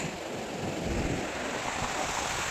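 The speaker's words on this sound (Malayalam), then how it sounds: "രണ്ട് തിരമാലകൾ ഈ സൈഡിൽ നിന്നും ഈ സൈഡിൽ നിന്നും തിരമാല കൂട്ടി ഇടിക്കണ കാണാൻ പറ്റും" Surf at Varkala beach, where two sets of waves meet from opposite sides and collide, gives a steady, broadband wash with rolling surges and some wind buffeting the microphone. There is no talk.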